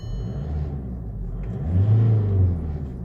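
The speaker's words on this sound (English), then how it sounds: "Engine still sounds the same." A 2006 VW TDI diesel engine fitted with an aftermarket power chip runs nearby with a low rumbling idle, briefly swelling louder in a short rev midway before settling back, no voices present.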